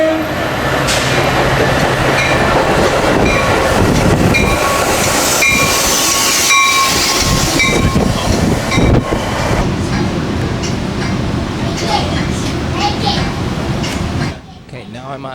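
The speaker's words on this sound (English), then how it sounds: "here I got to take the Metro train back" A Metro train rides on its rails, a loud close rumble and rattle with squeals and clicks, and a voice speaks over it before the noise drops off near the end.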